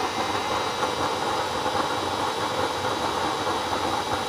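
A homemade double-burner stove running on used oil gives off a loud, steady roaring flame with a constant hissing rush and no breaks or talking.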